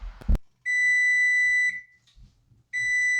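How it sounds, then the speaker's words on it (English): A rice cooker gives two long, steady electronic beeps, close and clear, signaling the rice is done, separated by a short quiet gap with faint kitchen noise underneath. "And that's the sound of rice being ready."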